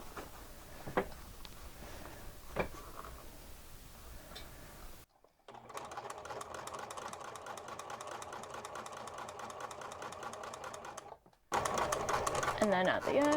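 A sewing machine stitches a rolled hem with a presser foot, sewing forward and then backstitching in a steady, continuous whir of about six seconds. Quieter handling noises come before it and louder sounds follow.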